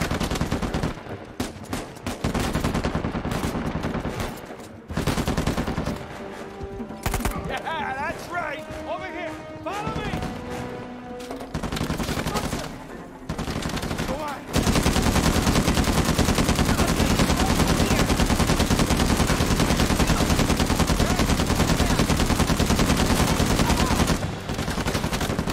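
Rapid gunfire in Uncharted 4, loud bursts of automatic fire and single shots in clusters, then a long sustained stretch of intense continuous shooting and explosions in the second half.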